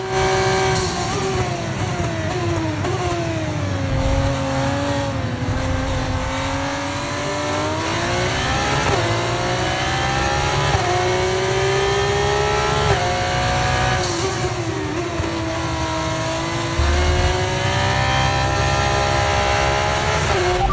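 A Formula 1 car engine in the F1 2024 video game screams continuously through a racing lap, loud and close, its pitch sweeping up and down through gear changes with no pauses.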